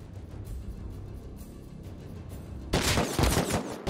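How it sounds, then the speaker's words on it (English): Rapid bursts of gunfire in a video game, quiet and scattered at first, then a dense, loud volley erupting partway through and continuing to the end. "Why did he shoot?"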